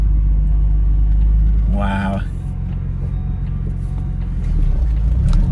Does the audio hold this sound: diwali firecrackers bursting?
no